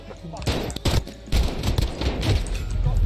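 Video game gunfire in the gulag arena, loud close bursts of rapid shots and cracks in quick clusters, with a player's voice mixed in among the shots.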